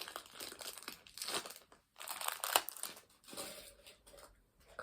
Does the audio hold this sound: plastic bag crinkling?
yes